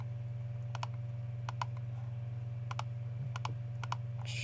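Sharp double mouse clicks sound in a few separate pairs over a steady low computer hum while someone works in SPSS statistics software, with no talk.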